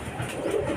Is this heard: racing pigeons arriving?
yes